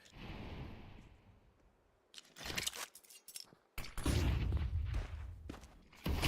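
M4 rifle fire in Counter-Strike 2 comes in sharp, loud, close bursts of a few shots each, scattered across a match with grenade blasts and clattering game noise between them.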